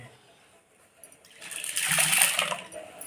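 Water pours over chana dal left to soak for making bobbatlu, starting as a faint trickle and swelling into a steady close gush that fills the vessel for a couple of seconds, with no talking.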